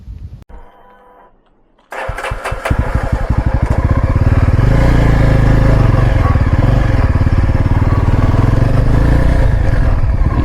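A Yezdi Adventure motorcycle fires up after a short quiet pause and settles into a loud, steady, rumbling exhaust note with a throaty pulse, heard close up and alone.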